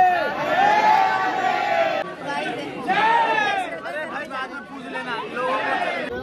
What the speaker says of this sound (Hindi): ज्यादा भीड़ है यहाँ पर